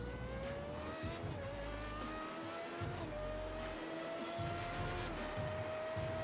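Formula 3.5 race car engines on a lap of Spa Francorchamps in iRacing, a steady high-pitched engine whine rising and dipping through gear changes with a continuous low rumble, no voices.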